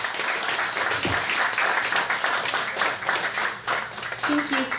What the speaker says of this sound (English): Let's give a round of applause for Ms.